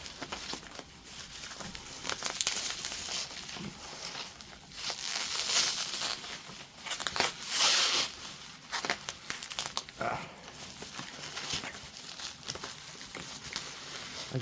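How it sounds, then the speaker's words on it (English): Close crinkling and tearing of packaging tape on the box of a Dyson DC07 Origin vacuum cleaner, with short rips and rustles repeating irregularly at moderate volume and no talking. "Just to cut this a little bit so that way we can tear it."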